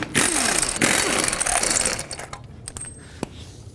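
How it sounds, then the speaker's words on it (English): Lug nuts on a 2003–09 Toyota 4Runner wheel are spun off with a 21mm socket, probably on an impact wrench: a loud, dense mechanical rattle for about two seconds, then quieter clicks and metallic clinks. "21mm socket, take off all 6 of your lug nuts"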